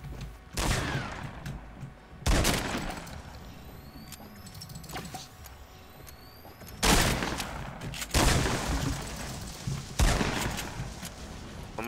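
Gunfire in the video game Fortnite comes as several loud bursts of shots spread apart, with quieter game sounds between them.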